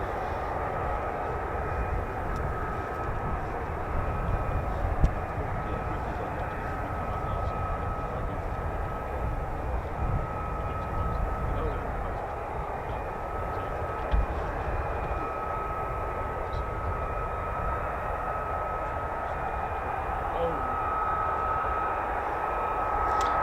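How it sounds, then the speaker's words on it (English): Distant F-35B stealth fighter jet flying at RAF Marham, a broad, steady roar with a faint whine on top, moderately quiet and unbroken throughout with no voices. "So yeah, this was the F-35B."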